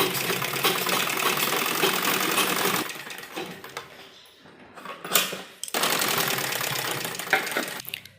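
A sewing machine stitches suit sleeves in a loud continuous rattling run, pauses with quieter handling noises, then starts up again for another sustained burst.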